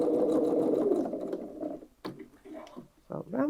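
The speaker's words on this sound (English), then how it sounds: "I'm just going to top stitch around there. So I've got cream thread on my machine." Domestic sewing machine running a line of top stitching around a fabric tote bag, a brief fast buzzing whir that slows and stops, followed by someone talking close by.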